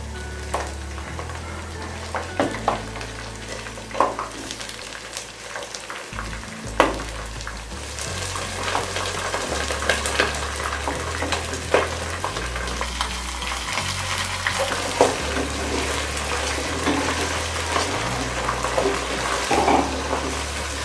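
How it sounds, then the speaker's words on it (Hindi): Half a kilo of chicken fries steadily in a pan for pullao biryani, a continuous loud sizzle with occasional stirring scrapes and clinks throughout. "अब हम ये चिकन जो है इसको 5 से 7 मिनट फ्राई करेंगे"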